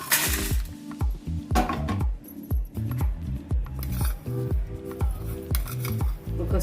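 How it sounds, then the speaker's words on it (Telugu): Spices dry-roast in a pan without oil for a South Indian stuffed brinjal curry, with a steady rhythm of sharp metal spoon scrapes and clinks against the pan, close and repeated about twice a second. "ఆయిల్ లేకుండా అన్నీ ఫ్రై చేసుకోవాలి."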